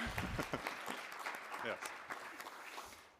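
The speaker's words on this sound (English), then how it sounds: "So, yes, that warrants a round of applause, yes." A conference plenary audience breaks into brief applause, scattered claps rising and thinning out, while a voice talks over it near the mic.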